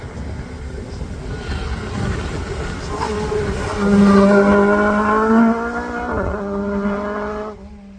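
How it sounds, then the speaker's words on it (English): A Riley Elf race car tackles a hillclimb course, its engine note rising and falling through gear changes as it passes close by, loud and revving hard before fading slightly at the end. "So what can the little Riley Elf do?"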